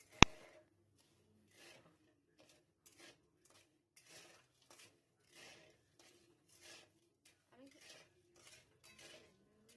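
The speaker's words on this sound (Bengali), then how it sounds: "এবার একটু কিছুক্ষণ চিনিটা আমরা নাড়াচাড়া করে নেব।" A spoon stirs dissolving sugar syrup in a pan for Kashmiri mango pickle, giving soft, sparse scrapes and taps in a steady slow rhythm after one sharp clink at the start, quiet and close.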